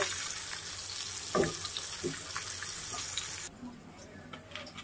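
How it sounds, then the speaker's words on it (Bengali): Garlic cloves fry in hot oil with a steady broadband sizzle, joined by a few soft clinks and stirring knocks, then the hiss drops abruptly quieter near the end. "তেলের মধ্যে হচ্ছে আমি কয়েক গোটা রসুন দিয়ে দিচ্ছি। রসুনটা একটু লাল লাল করে নিব।"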